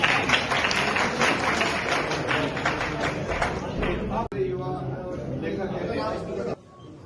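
Audience applause at a Garhwali, Kumaoni and Jaunsari language class committee event, a dense steady wash of many hands clapping that fills the whole stretch, with a brief break partway and a drop in level near the end.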